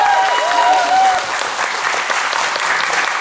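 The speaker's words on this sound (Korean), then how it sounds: "마지막이니까 박수 그냥 크게 한번 해주세요" A seated audience at a forum of women workers gives a loud, sustained round of applause. The clapping is dense and close, and a short voiced sound is heard at the start.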